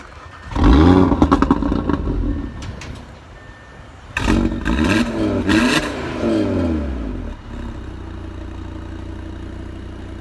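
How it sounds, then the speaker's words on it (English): An Audi RS3 sedan, 400 horsepower, starts with a sharp loud bark and then revs hard in several rising and falling bursts before settling into a steady idle, close by with no talking. "I wanted to show you when we start up this car. Let's take a listen to this."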